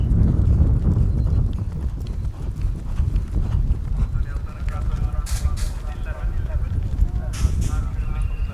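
Horse galloping over a cross-country course at Hartpury horse trials, a steady low drumming of hooves on turf running throughout, heard under continuous commentary.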